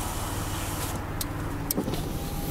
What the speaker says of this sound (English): Let's do some windows.